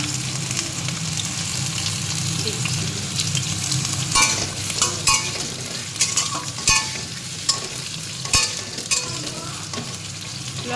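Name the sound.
vegetables frying in oil with a little salt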